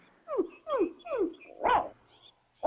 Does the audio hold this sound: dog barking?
yes